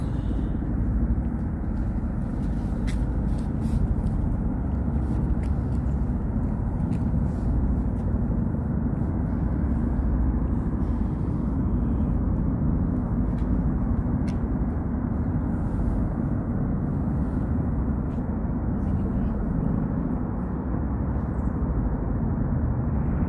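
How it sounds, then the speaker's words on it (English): Helicopter flying over New York City produces a steady, distant low rumble that holds evenly throughout, with faint city ambience beneath and no talking. "Helicopter."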